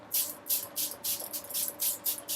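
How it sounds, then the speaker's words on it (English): Rapid bursts of fine mist spraying, about eight quick hissing puffs in a steady rhythm, close by with no talking. "So now that I sprayed my face"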